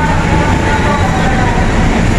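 LRT light rail train at 5th Avenue station, a loud steady rumble of cars rolling along the track with constant station noise and a voice talking over it.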